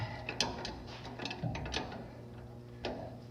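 A ratchet wrench loosens a bolt holding the proportioning valve on a C10 master cylinder, with clusters of quick metallic clicks and small pauses, close up and fairly quiet.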